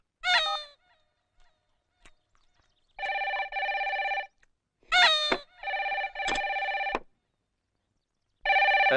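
A telephone rings in repeated electronic bursts, loud and close, separated by short pauses, with a few brief animal-like cries mixed in between rings.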